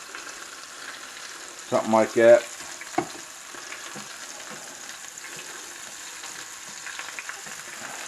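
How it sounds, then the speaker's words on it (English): Bacon fries in a pan for a big breakfast, giving a steady, close sizzle and crackle throughout, with a voice speaking briefly near the start. "Hope you guys can hear me over that bacon cooking."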